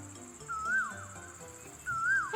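Asian koel, also called the noisy cuckoo, giving two loud rising whistled calls a little over a second apart in the morning, over faint background bird sounds.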